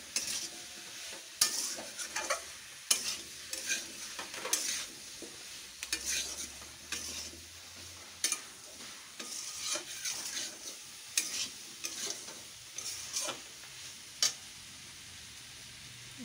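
A spoon scrapes and stirs cumin powder and chili powder through oil in a frying pan, giving repeated clinks and scrapes over a low, steady sizzle, close by and with no talking.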